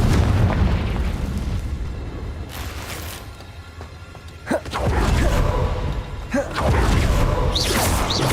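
A Confringo fire spell detonates in Hogwarts Legacy, giving a loud, roaring explosion with a rumbling tail, then a second sharp burst and a renewed rush of booming noise.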